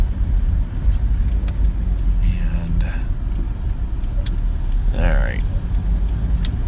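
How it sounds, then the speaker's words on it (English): A car drives through town traffic on a rainy Friday morning, a steady low road rumble inside the cabin with a few brief clicks, while a person talks over it. "I am maneuvering, driving right now"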